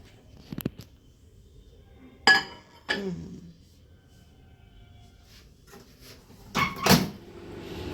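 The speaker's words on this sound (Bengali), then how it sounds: "তাহলে এটা আগে ঢুকিয়ে দিই মাইক্রো ওভেনে।" Pithe, a Bengali winter rice cake, going into a microwave oven: a few sharp clunks and clinks of the door and dish spaced across a quiet room, with a louder double knock near the end.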